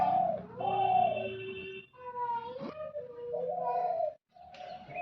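A pigeon coos at a bedroom window in a series of close, loud, rolling calls with short breaks between them, and no voices are heard.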